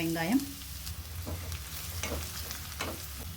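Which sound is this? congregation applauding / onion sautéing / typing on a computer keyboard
onion sautéing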